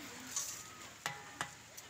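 Spices and bay leaves sizzle in oil in a large pot of bhuna khichuri being cooked outdoors in a village, a faint steady hiss broken by a few sharp crackles and stirring clinks.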